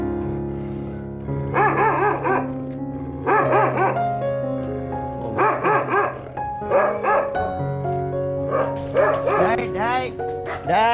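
Rajapalayam dogs bark and yip in repeated bursts, several loud close barks with short gaps, a few whimpering yelps near the end, while a person talks over parts of it.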